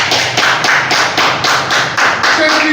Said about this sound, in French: Nous devons applaudir ces gens-là pour leur courage.